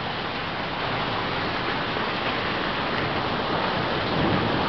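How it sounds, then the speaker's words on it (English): Heavy rain pouring down during a hailstorm in Scottsdale, Arizona, a dense, loud, steady roar of water close by with no break and no talking. "That is a lot of rain real fast."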